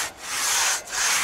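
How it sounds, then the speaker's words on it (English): Crosscut hand saws rasp through felled timber in a wilderness area, two long, steady push-pull strokes with a short break between them, close and clear with no talk. "We are using crosscut saws, a traditional tool in felling trees."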